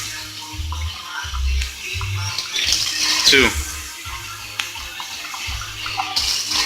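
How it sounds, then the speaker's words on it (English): Tap water running into a cooking pot as water is added for homemade red pozole, in bursts with pauses between pours, loud and close, with someone talking over it. "You're gonna want to fill this shit up with 3 cups of water."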